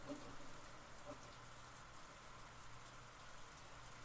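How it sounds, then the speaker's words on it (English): Steady wind and rain in the visual novel Umineko, a soft continuous wash of falling rain with no voices, fairly faint and even throughout. "The silence between the two was filled by the sound of wind and rain."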